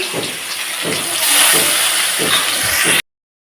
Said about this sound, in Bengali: তেলটা গরম হয়ে গেছে তো দেখো মাছগুলো ধুয়ে কেটে রেখে হলুদ লবণ মাখিয়ে নিয়েছি আর দিয়ে দিলাম